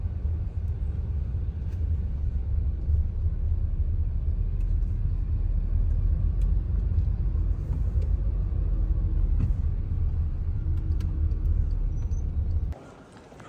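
Steady low rumble of street traffic in a busy city setting near a road, continuous broadband drone with no distinct passes, holding constant before dropping off abruptly near the end.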